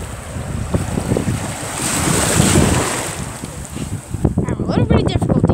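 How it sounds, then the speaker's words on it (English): Ocean surf in a video game rolls and washes in steadily, with wind buffeting the microphone. Voices talk over the continuous wave noise. "Oh my god, there's a bunch of waves."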